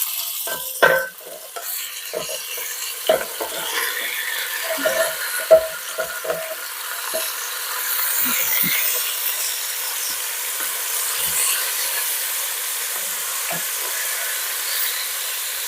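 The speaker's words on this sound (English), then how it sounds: "And yes, there's a sizzle." A steady, quiet sizzle of food frying in a hot pan, with a few scattered clinks and stirring sounds early on.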